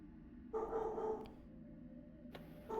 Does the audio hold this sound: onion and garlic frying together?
no